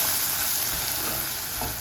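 Elephant foot yam chunks fry with curry powder in a pan, giving a steady close sizzle with soft scraping and stirring noises and no talk.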